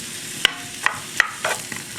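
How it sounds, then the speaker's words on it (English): Vegetables for palak paneer sizzle and fry in a pan while a utensil scrapes and stirs with several sharp clicks, close and steady. "saute them nicely."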